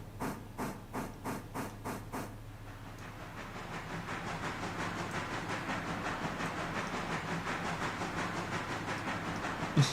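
A steam locomotive in the Railroader game pulls away with a few slow, distinct chuffs that quickly blur into a rapid, continuous beat with hiss as it gathers speed, steady and fairly loud with no talk.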